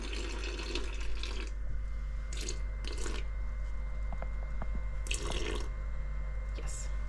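Water is poured into flour as cinnamon roll dough is made, giving soft dripping, trickling splashes against a steady low background hum, with brief bursts of broadband noise through the clip.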